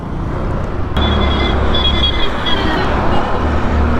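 A Hero Destini 125 scooter, 2025 model, pulls away along a road, its engine hum rising steadily and continuously up close under a broad wash of traffic noise.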